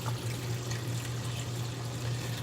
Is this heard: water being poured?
yes